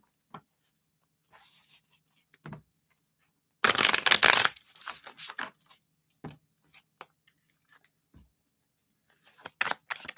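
Tarot cards being shuffled in a dense rustling burst of a second or so, with scattered soft taps and handling noises before and after, recorded close.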